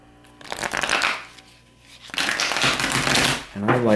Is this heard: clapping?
no